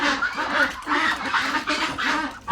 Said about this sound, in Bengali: এখানে একটি সুন্দর হাঁসের খামার আছে